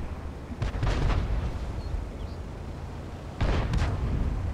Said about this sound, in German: Und der Jackson, der hat schon mal nicht gesessen, dieser Schuss.